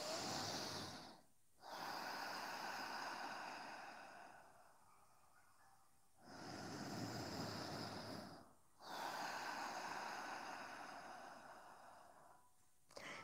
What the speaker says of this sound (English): continue breathing, inhaling and exhaling through your nose